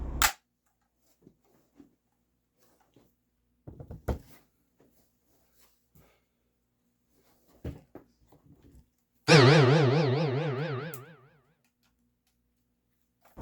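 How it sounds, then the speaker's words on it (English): A Daisy SG22 air rifle is dry fired with no pellet, giving a few sharp, isolated clicks and snaps spaced apart, then a loud springy twang that warbles and fades over about two seconds. "Dry firing this type of air rifle does no damage to it whatsoever"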